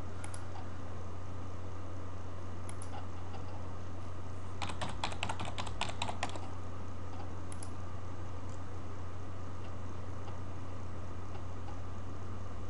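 A quick run of computer keyboard keystrokes, typing a username and password, clicks rapidly for about two seconds, with a few isolated taps before and after over a steady electrical hum.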